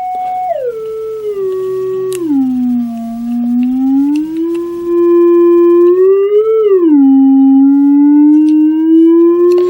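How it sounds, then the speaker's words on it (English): A loud, steady sine-wave tone from an audio waveform generator kit glides slowly down, levels off, rises, dips again and climbs gradually, with no other sounds. "very gradual up and down of the sine wave"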